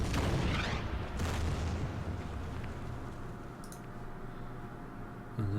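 Artillery fire in the Order of Battle war game: a couple of heavy booming blasts followed by a rumbling, decaying tail and lingering low noise, fairly faint overall with no talking.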